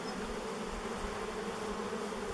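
Honey bees swarm and buzz at an old beehive being opened after more than thirty years, a dense, steady drone close by that holds an even level throughout with no talking.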